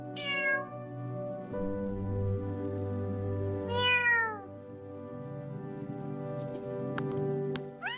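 An AI-generated cat from Grok Imagine lets out two distinct, rising-and-falling meows a few seconds apart, close and clear over a quiet background, with no talking.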